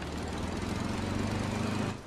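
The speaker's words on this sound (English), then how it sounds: "Why does their jeep sound like a lawnmower?" A jeep engine in Far Cry 6 putters with a buzzy, lawnmower-like drone, steady and close for about two seconds before dropping off.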